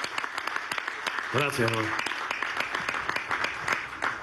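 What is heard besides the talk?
audience applause for the armed forces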